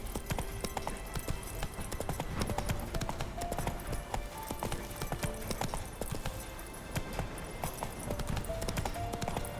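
Roach, the horse in The Witcher 3, clip-clops with steady, rhythmic hoofbeats at a moderate level, mixed with game music and ambience, while a voice talks faintly.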